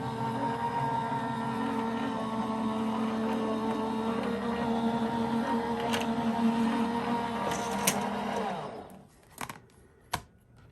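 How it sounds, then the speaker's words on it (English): A Gemini electric die cutting machine drives an embossing plate sandwich through its rollers with a steady, even motor hum and whir, then stops, leaving a few sharp clicks and taps. "we are going to sandwich it up with the clear plate on top and run that through the machine"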